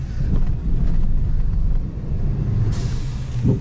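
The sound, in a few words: Ford Maverick turbo blow-off valve when letting off the gas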